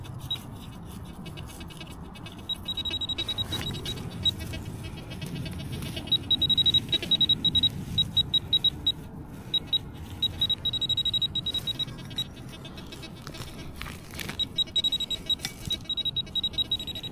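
A metal detector sweeps along a beach and castle moat, giving repeated high electronic beeps in short bursts over a scratchy, rustling background, with no speech.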